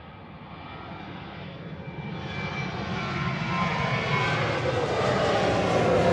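A Ryanair airliner at Manchester Airport, its engine roar loud and steady and slowly building in strength as the aircraft draws nearer, with no voices over it.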